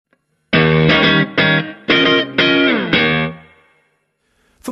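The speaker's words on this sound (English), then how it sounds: "Now add some reverb, and we're getting there." Electric guitar played through a Fender amp with reverb: several loud strummed chords and phrases ring out, then the last one decays into a reverberant tail before a faint click at the end.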